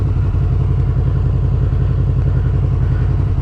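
Motorcycle engines idle and rev steadily side by side while waiting at traffic lights, a loud, close, continuous throbbing rumble with no talk.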